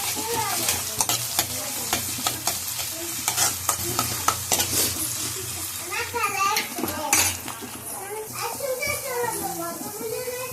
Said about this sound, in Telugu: అల్లం పేస్ట్ వేసుకొని లో ఫ్లేమ్లో పెట్టుకొని కలుపుకోవాలి.